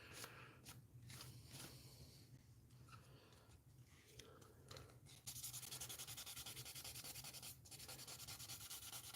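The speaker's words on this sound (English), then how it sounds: "sandpaper is going across the surface" Fine sandpaper rubbing back and forth across a plastic part of a 1/60 NeoGrade Sazabi model kit, a steady close scratchy rasp that grows louder and denser partway through.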